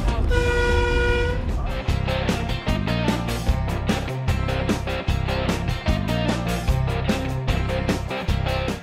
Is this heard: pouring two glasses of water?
no